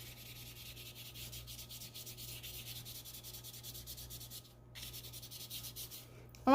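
Colored pencil rubbed and smudged across paper while blending a sunset drawing, a steady close scratchy rubbing that runs continuously with a brief pause near the end.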